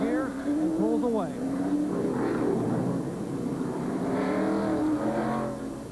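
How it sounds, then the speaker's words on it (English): Jeff Gordon's DuPont Chevrolet race car at the 1997 Mountain Dew Southern 500 at Darlington roars away from pit road, its engine revving up through rising gears under continuous commentator talk, with steady crowd and track noise around it. "He puts it in gear and pulls away."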